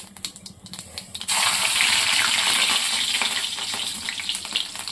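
Cumin and onion hit a hot pan, bursting into a loud, dense sizzle after a second of quieter clatter, then frying steadily up close with no one speaking.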